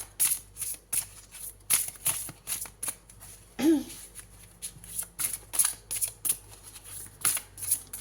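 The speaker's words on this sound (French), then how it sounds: "Je vais prendre une 3e carte." Tarot cards handled during a reading: a series of crisp, close card flicks and slides repeating at an irregular pace across the span, loud and dry, with a brief voice-like sound near the middle.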